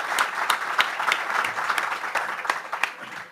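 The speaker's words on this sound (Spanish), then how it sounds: "un aplauso también," Audience applause at an exhibition presentation in Tetuán, a steady patter of clapping from a modest crowd, fairly close and continuous throughout.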